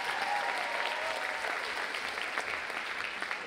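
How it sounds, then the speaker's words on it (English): Audience at a dance academy showcase applauds with dense, steady clapping that stays loud and even from start to finish. "Give a hand for yourselves."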